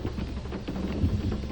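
Steady rain falls, a dense, even hiss with soft patters, probably on a roof or vehicle, near and continuous, with a low rumble underneath. No one speaks.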